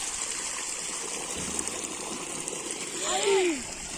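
Irrigation water streams into a farm field in a village orchard, a steady gurgling flow heard close by, with a brief whistling voice-like sweep near the end.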